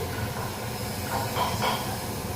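Garam masala spices with bay leaf fry in a pan with a steady, close sizzling hiss that carries on evenly throughout, with no voices.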